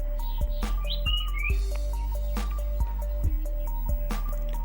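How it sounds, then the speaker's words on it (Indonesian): A sirtu (cipow) bird sings a lively series of short chirps and whistled notes, clear and close, repeating irregularly over a steady low hum. "ini adalah contoh burung sirtu yang birahinya sudah stabil ya"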